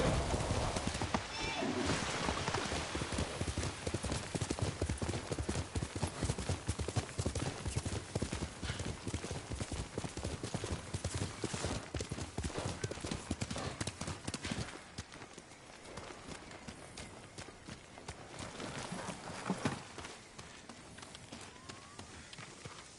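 Rapid clip-clop of horse hooves galloping continuously in a video game, with a brief whinny and occasional snorts, fairly loud and steady, easing slightly near the end.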